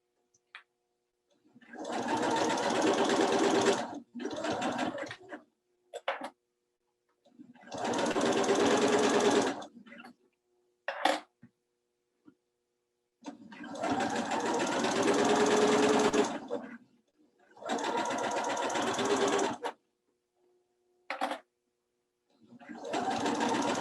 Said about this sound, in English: And I'm going to back stitch on this just so it stays in place while I'm working on the pillow.